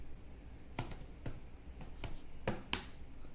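Someone types a command on a computer keyboard while writing a PL/SQL program, giving a handful of sharp, separate key clicks spread unevenly over a few seconds, close up with quiet between them.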